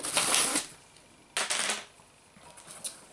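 Plastic strap being cut off a Google Home speaker box: two bursts of crisp snipping and plastic crackle, close and clear, with a faint rustle after.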